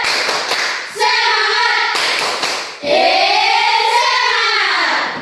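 Schoolchildren perform the 'tepuk semangat' chant, with rapid rhythmic hand claps in quick groups alternating with loud unison shouted calls from the whole class, close and lively.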